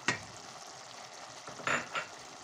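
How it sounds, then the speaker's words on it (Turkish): Bulgur and chopped dill being stirred in a pot with a spoon, a few short scraping, sizzling strokes, close and fairly quiet, with no talking. "Şöyle güzelce karıştıralım."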